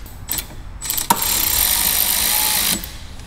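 Ratchet tightening brake caliper bolts on a Corvette C5 during a front brake pad and rotor job, a short burst of clicking followed by a sustained loud mechanical run of about a second and a half, close by with no talk.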